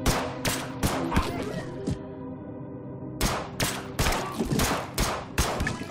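Soldiers in the strategy game They Are Billions open fire in dense, rapid volleys of gunshots, with a brief pause before the shooting resumes just as loud and continuous.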